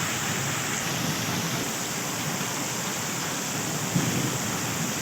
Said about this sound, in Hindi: बिल्कुल ही बारिश है।